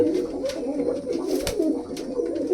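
A recovering pigeon with a neck-twisting illness coos continuously close by, a low throaty rolling murmur with soft wing or body rustles over it.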